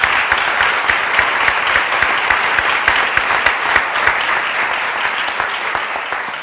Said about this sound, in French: Et je tiens, même si M. Demers n'est pas là, d'applaudir Ville de Laval pour leur position courageuse et la commission scolaire.